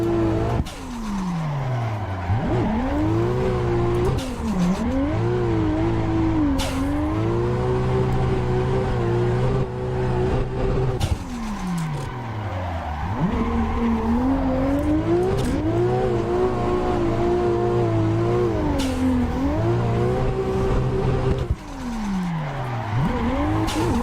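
Race car drifting in Assetto Corsa VR, the engine revving and rising in pitch through long slides while tires squeal loudly and almost without a break, with brief handbrake drops between bursts.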